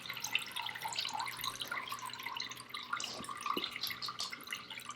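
Clear rinse water in a sink while raw wool is scoured: soft irregular drips and trickles over a constant watery hiss, close by and fairly quiet, with no talking.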